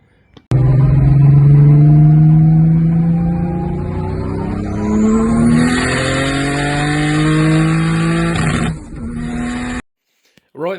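BMW E36 fitted with a VR6 engine driving past, a loud engine note rising and falling through gears with strong harmonic revving, then cutting off abruptly near the end.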